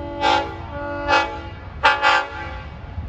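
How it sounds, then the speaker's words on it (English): Long Island Rail Road locomotive 423 sounding its K5LLA five-chime horn at Elmont station during evening rush hour: a loud near blast, then a second, then two quick blasts close together, with a harmonic chord tone. "423's got one of the best K5 LLA horns"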